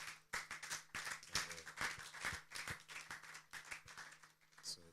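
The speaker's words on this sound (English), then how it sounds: "So I think we can also give them a huge round of applause" A small conference audience at an energy week event claps, with scattered, uneven hand claps, fairly faint and sparse, and a low hum in the background.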